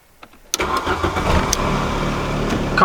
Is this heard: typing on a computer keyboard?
no